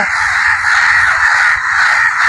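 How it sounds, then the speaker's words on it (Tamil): A flock of crows caws loudly and continuously in a dense, overlapping chorus near a tree, with no pauses and no talking. "ஒரு காக்காய்க்கு எவ்வளோ ஒற்றுமையை பாருங்கள்"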